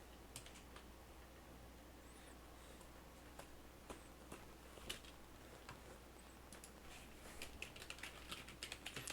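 Quiet, steady keyboard typing during a live game session, a soft run of light clicks with occasional louder keystrokes over a low background hum.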